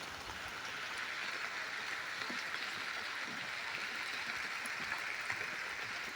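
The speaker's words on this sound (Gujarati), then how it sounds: "જોઈ શકો છો વરસાદ આવે છે ધીમો ધીમો મિત્રો." Light rain falls outdoors near a parked car and papaya trees, a soft, even, continuous hiss with faint scattered drops, fairly quiet throughout.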